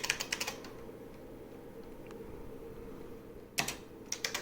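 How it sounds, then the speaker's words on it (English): Keystrokes on a 1981 IBM 5150 computer keyboard while entering code, a quick burst of clacking at the start, a quiet pause, then another short cluster of keypresses near the end. "if I type in some code here"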